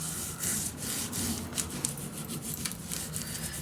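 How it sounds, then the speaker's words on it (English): A tool rubs firmly back and forth over paper pieces, burnishing them down for a handmade mini album, making a close, dry scraping sound in quick repeated strokes. "Now I like to burnish them down."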